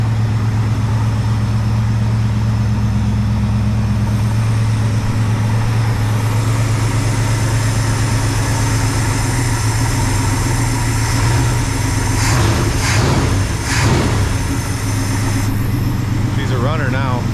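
A rebuilt Holley 2-barrel carburetor feeds a car engine running steadily at idle on the engine choke, a constant low rumble throughout with a few brief louder bursts near the end.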